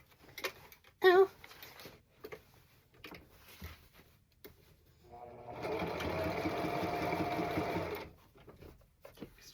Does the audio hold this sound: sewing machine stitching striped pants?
yes